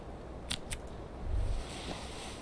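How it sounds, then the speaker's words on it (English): Keys on a keyring clink in a trouser pocket in the video game Disco Elysium: two or three quick, bright metallic taps, faint against a steady ambient hiss. "Keys are clinking in the pocket of your flare-cut pants."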